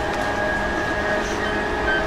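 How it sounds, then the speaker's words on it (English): A Keihin-Tohoku Line commuter train runs between Yokohama and Tokyo, heard from inside as a steady rumbling roar with faint high whining tones and no break. "This is a Keigi Tohoku Line train for Old Kana."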